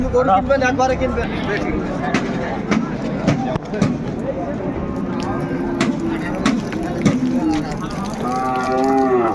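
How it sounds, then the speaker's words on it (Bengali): Cows and calves mooing at a busy livestock market in Ambari, Dinajpur, several calls rising over a steady crowd babble and nearby voices. "অর্ডিনে যাও গাভী বাছুর আমরা দেখছিলাম এখানে"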